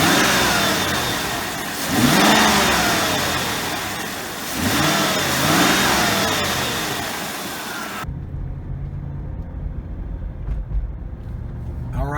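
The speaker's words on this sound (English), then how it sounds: "I'll try to be quiet and just let you guys listen to the engine." A 1997 Oldsmobile Aurora's engine while driving, rising and falling through several acceleration surges with a smooth mid-pitched hum, then settling into a quieter steady drone.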